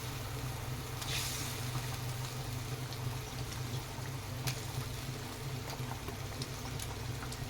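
Curry broth for a magur fish curry boils in a pot, giving a steady, low, continuous bubbling simmer with a few faint pops.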